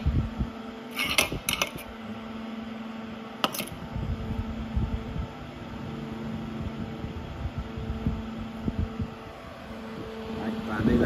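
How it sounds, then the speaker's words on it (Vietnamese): An electric household fan runs at high speed, giving a steady whooshing, humming airflow throughout with a few brief clicks and knocks; faint voices may sit under it. "Bây giờ quạt chạy tít luôn."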